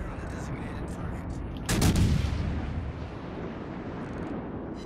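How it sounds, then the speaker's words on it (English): Naval artillery salvo in World of Warships: Legends, a single heavy booming shot rolling out over constant ship engine and sea rumble. "All stations, concentrate fire on the target."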